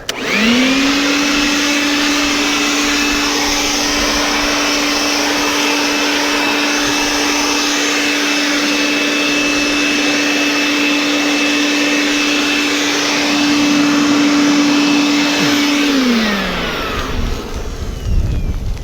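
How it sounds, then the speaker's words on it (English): A leaf blower pushes snow in winter, its motor holding one loud steady whine close by for about sixteen seconds before it spins down and fades near the end. "I thought I'd just try to leaf blow some of the snow"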